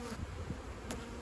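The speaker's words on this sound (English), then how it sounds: "I'm just going to shake off the bees" Close, steady buzzing of many honeybees shaken from a hive frame, a dense droning hum with no voices.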